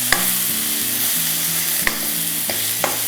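Onions frying in oil with a steady close sizzle, punctuated by several sharp scrapes and taps of a spatula stirring the pan.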